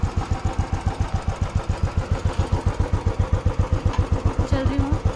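Royal Enfield Bullet motorcycle engine thumping at a slow, even idle-like beat, close and steady throughout, with faint background noise.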